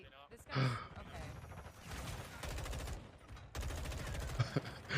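Gunfire from Call of Duty Modern Warfare 2 at a gaming event, a dense run of rapid shots and bursts filling the clip under an excited commentator's voice and sighs.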